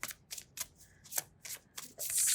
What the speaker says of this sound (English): Let's just shuffle it here.